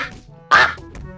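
A loud duck quack plays from a soundboard during a Garry's Mod DarkRP game, one short nasal burst standing alone and close.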